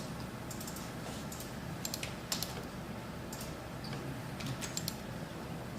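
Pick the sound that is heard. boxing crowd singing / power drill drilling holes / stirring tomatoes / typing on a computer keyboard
typing on a computer keyboard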